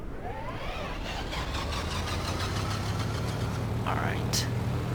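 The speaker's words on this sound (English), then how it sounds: "Now my right engine started, and let's rock and roll." Right engine of a twin-engine aircraft starting up, a steady loud engine drone rising in pitch with mechanical whine throughout, with a brief higher tone near the end.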